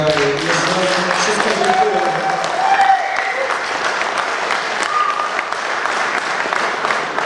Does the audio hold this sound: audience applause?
yes